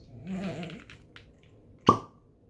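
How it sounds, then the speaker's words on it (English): A single sharp pop rings out close by as a bottle of rosé wine is uncorked, following a few soft low murmurs and faint clinks. "That's why I like opening wine bottles on videos."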